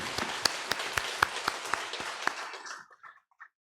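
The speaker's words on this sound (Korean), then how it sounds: "우리 하나님 앞에 영광의 박수 올려드리겠습니다." A church congregation at Sunday worship claps in praise, sparse and fairly quiet with a few sharp louder claps standing out, tapering off into near silence after about three seconds.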